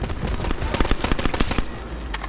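Rockets fired at the player in Borderlands 3 during a boss fight, a loud, chaotic run of rapid explosive cracks and blasts crowding over each other for a couple of seconds.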